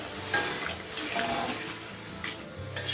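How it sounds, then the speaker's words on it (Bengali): Water is poured into a papaya and potato curry cooking in a pan, a soft splashing and sizzling pour with a few clinks, steady and close. "এখন আমি দিয়ে দিচ্ছি সামান্য পরিমাণ জল জল দিয়ে আমি ঝোলটাকে ভালো করে চাল করে নেব"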